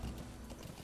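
Horse hooves clip-clop in a brief, steady run of muffled thuds over a dense background.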